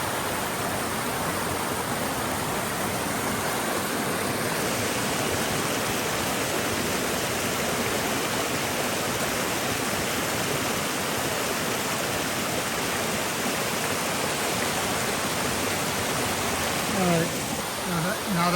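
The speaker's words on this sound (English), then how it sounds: "The waterfall coming from down from top." A waterfall on Mt. Moosilauke roars continuously nearby, a dense, even rush of water that stays loud throughout.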